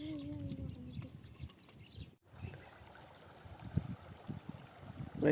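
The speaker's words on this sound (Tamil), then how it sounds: "தண்ணி பாருங்க எவ்வளோ அழகாக கருன்னு ஓடிட்டுருக்குது." A village stream runs with a steady broadband wash of flowing water, fairly close, with a few brief voiced sounds early on and small splashy accents near the end.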